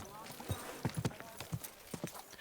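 A horse's hooves clip-clop at a walk in the Kingdom Come: Deliverance II video game, several close, uneven hoof strikes under quiet background talk.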